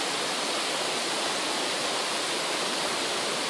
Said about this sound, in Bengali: ওই ঝর্ণার দিকে গিয়েছিলাম।